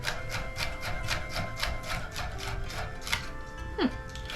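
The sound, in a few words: knife dicing celery on a cutting board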